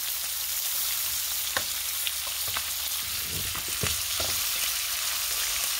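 Mice frying in a pan, a steady loud sizzle of fat with a few sharp pops and scraping stirs near the close, with no talking over it.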